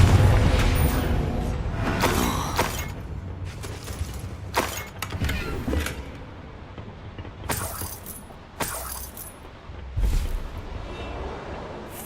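In the Hogwarts Legacy video game, the Confringo blasting spell sets off repeated booming explosions with crackling debris bursts. The loud impacts come in uneven succession over a dense rumbling game soundscape.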